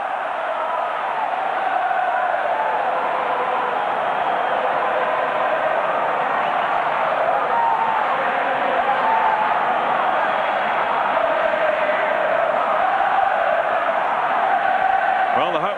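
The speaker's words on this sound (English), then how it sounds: "Tremendous noise around the stadium." A steady, roaring wall of home-crowd noise fills the football stadium during Fiorentina v Milan in Serie A, 1996-97, with sustained cheering and chanting that stays loud and constant throughout, broadcast-style and without pauses.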